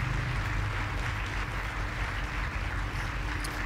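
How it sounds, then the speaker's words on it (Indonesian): Steady applause from a crowd, a dense wash of clapping that holds evenly throughout with no voices standing out. "Mari beri mereka semua tepuk tangan yang meriah."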